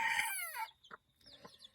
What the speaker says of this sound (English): these gold birds, the sebrights,